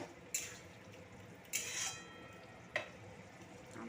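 Fried prawns dropped into a pan of cooking yam curry, three short sharp clatters and sizzles spaced about a second apart against a quiet simmer, close and fairly faint.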